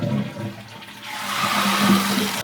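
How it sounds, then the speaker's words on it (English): A Glacier Bay dual flush toilet, one that had been leaking, is test-flushed: a steady rushing whoosh of water that swells toward the end as the bowl drains and refills, heard alone without voices. "and then I gave it a few test flushes."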